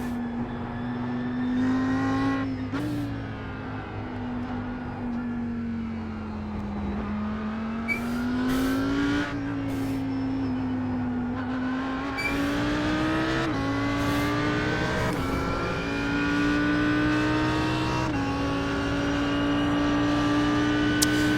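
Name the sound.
Audi R8 GT3 race car driving in iRacing video game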